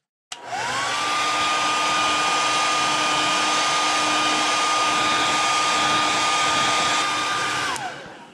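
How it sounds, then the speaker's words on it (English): A heat gun drying paint on a fishing lure, a crusty deep diver shad, roars steadily at close range after a quick start-up, holds an even pitch for about seven seconds, then cuts off and spins down. "I'm going to heat dry this so I can get my shad dot on there"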